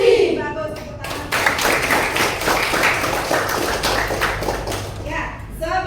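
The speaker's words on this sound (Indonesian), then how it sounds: "bagus, tepuk tangan" A classroom of sixth-grade children claps their hands in a burst of dense, irregular slaps, with young voices chanting and talking at the start and end.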